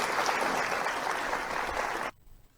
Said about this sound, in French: il faut applaudir pour nos auditeurs qui nous écoutent